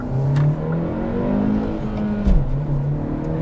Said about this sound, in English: you'll see here again as I accelerate, rev hang